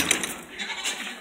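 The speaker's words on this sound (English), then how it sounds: "Ah! Goats!" Nigerian Dwarf goats bleating close by in a short, wavering cry over rustling farmyard noise.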